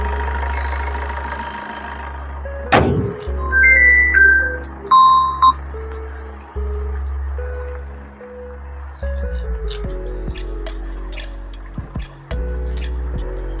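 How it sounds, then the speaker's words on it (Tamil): A 2013 Maruti Swift VDI diesel hatchback engine cranks over with a sharp start, then settles into a steady, rhythmic diesel idle with a faint knocking pulse, heard up close with light clicks and clatter on top. "வண்டி இப்போ ஸ்டார்ட் பண்ணி லைட் போட்டோன்னே பாருங்கள்"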